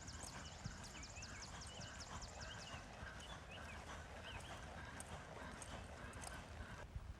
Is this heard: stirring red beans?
no